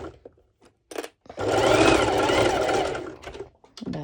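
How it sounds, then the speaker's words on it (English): A sewing machine runs a zigzag stitch over elastic fabric for a pole dance top, a steady loud whirring burst of about two seconds between short pauses and handling noises. "I'm going to do a zigzag stitch over, and then I'm going to go and serge it with my serger"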